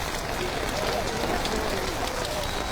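Heavy monsoon rain pours down steadily in Vadodara, a dense, loud, unbroken hiss of drops striking surfaces close by.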